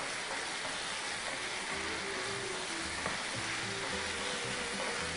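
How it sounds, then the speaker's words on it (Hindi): Chicken fries and sautés in a hot pan, giving a steady close sizzle with occasional stirring scrapes and no voices. "इसकी अच्छे से हम भुनाई करेंगे ताकि ये हमारी चिकन जो है वो गल जाए।"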